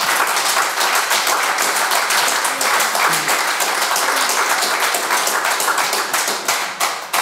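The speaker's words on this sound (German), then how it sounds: "Applaus" A political rally crowd claps in distinct, rhythmic unison beats that repeat steadily and loudly for several seconds before easing off at the end.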